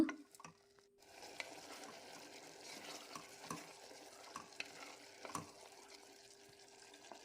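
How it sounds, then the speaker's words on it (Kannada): Salted mushrooms frying in a pan, a faint sizzle under repeated scraping and tapping of a spoon as they are stirred, alone and close. "ಮಶ್ರೂಮ್ನ ಸ್ವಲ್ಪ ಫ್ರೈ ಮಾಡ್ಕೊಳ್ಳೋಣ"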